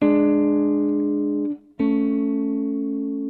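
A sustained electronic-sounding dominant seventh chord holds, breaks off briefly, then resolves to the tonic chord, which rings steadily and slowly fades.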